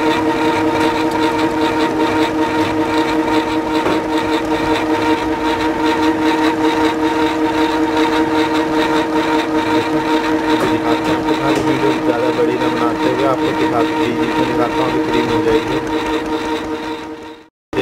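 An electric mixer runs at full speed whipping cream, a steady, buzzing motor whine with a constant pitch that drones on evenly, then cuts off at the very end.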